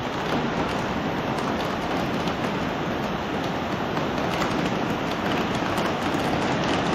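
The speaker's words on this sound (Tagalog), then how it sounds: "Lakas po ng ulan ay." Heavy rain pours down steadily, a dense, constant roar of drops hammering a surface with no letup.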